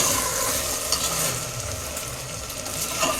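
Rice with a pinch of salt being sautéed in a pressure cooker for chicken biryani, a soft continuous sizzle with faint scraping stirs and occasional clinks, close by and without talk.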